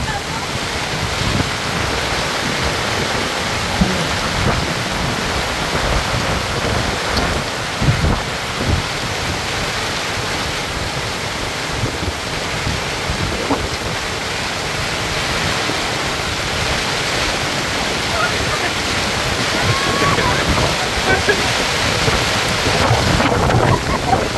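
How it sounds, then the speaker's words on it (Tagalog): A squall brings heavy, steady rain pouring down with a rumble of thunder, and the dense wash of noise continues loud and unbroken throughout. "bagyo na yata to."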